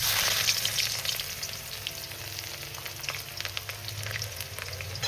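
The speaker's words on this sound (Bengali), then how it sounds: "পেঁয়াজটা একটু সামান্য একটু ভেজে নেবো" Chopped onion sizzles and crackles steadily in hot mustard oil in a kadai, a loud continuous fry with a low hum underneath and no voices.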